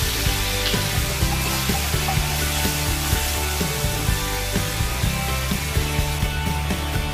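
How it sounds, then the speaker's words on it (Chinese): Soy sauce sizzling in a hot wok with ginger and chilli, a loud continuous frying hiss with crackling pops and the occasional scrape of stirring. "放入一大匙酱油炝锅。"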